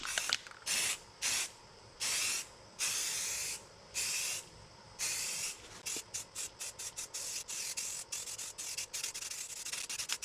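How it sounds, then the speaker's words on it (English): Aerosol Rustoleum paint hisses onto the rear bumper of a 2000 Lincoln Town Car in short repeated bursts, longer sprays at first and then a rapid run of quick puffs, close and clear with no talk. "I've already sprayed some silver down this side."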